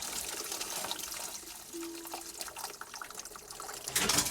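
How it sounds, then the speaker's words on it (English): Hot water from a kettle pours over ice in a fridge, a steady close splashing and trickling that runs throughout and swells a little louder at the end. "pour it over the ice to melt the ice, to clean the fridge"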